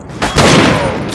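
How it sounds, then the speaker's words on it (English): Loud close gunshots in a first-person shooter game, a sharp blast followed by sustained booming fire with no talk. "I'm shooting someone else."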